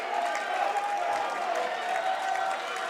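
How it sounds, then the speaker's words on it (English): A wrestling crowd at an independent pro wrestling show cheers and claps in a steady, moderately distant roar. A commentator's voice is heard faintly beneath it. "this crowd went wild after that"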